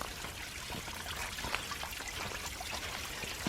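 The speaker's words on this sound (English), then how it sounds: "There's a little water running through here." A small stream of water trickles and dribbles along a hiking trail in a park, a faint, continuous gentle burble heard alone in the quiet outdoors.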